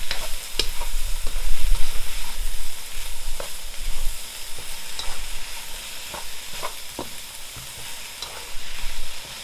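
Broccoli stir-frying in a hot pan, constantly stirred, with a continuous loud sizzle broken by frequent sharp scrapes and clacks of the utensil against the pan.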